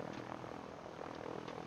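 A helicopter in the survival video game Sunkenland drones with a steady, dense rotor and engine roar, evenly loud throughout with no talk over it.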